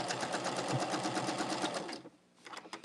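Sewing machine stitching a quarter-inch quilt border seam, a fast rapid-fire needle chatter that runs steadily for two seconds, pauses briefly, then resumes in a few quicker bursts, close and fairly quiet.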